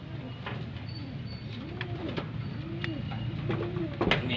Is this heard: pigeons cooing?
yes